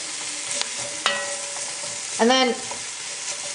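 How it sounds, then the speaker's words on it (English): Mushrooms fry in a pan with a steady, moderate sizzle and a few light clicks, while a voice briefly speaks over it partway through. "Now I'm going to go ahead and add my mushrooms and let those cook for a little while"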